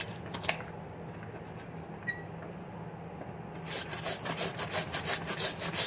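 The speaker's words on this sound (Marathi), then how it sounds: "अशा प्रकारे आपल्याला सगळं हळद किसून घ्यायची" Fresh turmeric root is rubbed against a grater for a turmeric pickle, giving a soft, dry scraping rasp that breaks into quicker, louder rhythmic strokes near the end.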